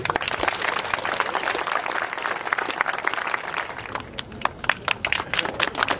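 Dense audience applause at an outdoor inauguration ceremony held at an industrial site, many hands clapping continuously and fairly close, thinning slightly into more separate claps toward the end.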